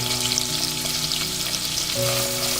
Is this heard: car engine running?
no